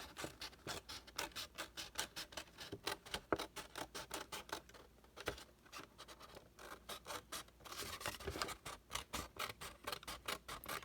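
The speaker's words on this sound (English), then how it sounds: "Remember, when using scissors, your fingers go on the bottom and your thumbs on top." Scissors snip through paper in a quick, steady rhythm of short crisp cuts, close up, continuing throughout with only brief pauses.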